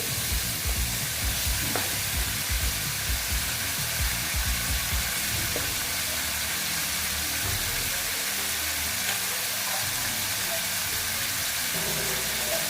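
Ash gourd and vegetables sizzling and frying steadily in an oil-filled pan with water added, with intermittent scraping and stirring clatters close by and no talk.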